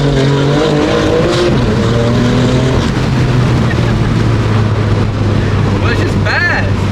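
A BMW M2 Competition accelerates hard on a test drive, its engine droning loudly and steadily from inside the cabin with rising and shifting pitch, while occupants talk over it.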